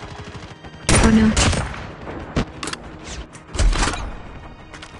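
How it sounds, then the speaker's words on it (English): Rapid gunfire bursts in the mobile shooter COD Mobile, sharp loud volleys in two main clusters with scattered single shots between, and a player briefly exclaims. "Somebody shooting me."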